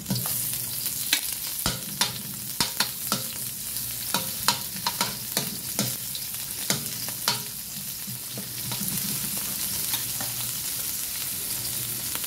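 Onion and ginger sautéing in a pan for Filipino mussel tinola, a steady low sizzle broken by repeated sharp scrapes and taps of a utensil stirring, with no talking.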